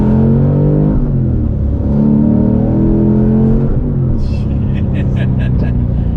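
An LS V8-swapped Porsche 911 accelerates with a deep, steady engine roar that climbs in pitch, loud and close throughout, with people talking over it.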